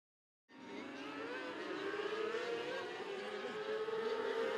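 Racing 600 Mini Sprint cars roar past on a raceway, a steady, loud, high-revving engine drone that rises in from silence and holds continuously.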